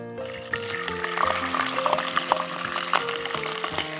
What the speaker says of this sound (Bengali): এখন হচ্ছে আমি এখানে পানি দিয়ে দিব